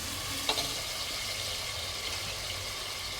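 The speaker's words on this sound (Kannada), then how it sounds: "ಪಲಾವೆಲ್ಲ ಹಾಕಿ ಇದಕ್ಕೆ ಫ್ರೈ ಆಗೋ ಥರ ಒಂದು 2 ನಿಮಿಷ ಬಿಟ್ಬಿಡಿ" Whole spices, including fennel and mace, sizzle in hot oil in a pan for palak vegetable pulao: a steady, quiet frying hiss with a faint clink near the start.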